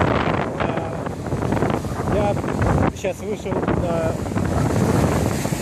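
Strong wind buffeting on an open Atlantic Ocean shore in December, a heavy roaring rush with low rumble and likely surf beneath, continuous throughout while someone talks over it.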